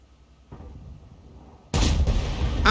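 Tank cannon shot from a WZ-111-1G FT tank destroyer in World of Tanks, one sudden loud blast after a low rumbling engine lead-in, with a sharp crack just before the end.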